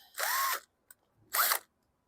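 A DeWalt power drill, used while working on a 2021 Toro Vortex lawn mower, whirs in two short bursts separated by a brief pause and a small click, close and clear.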